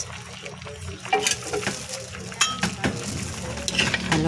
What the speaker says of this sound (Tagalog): halo-haloin natin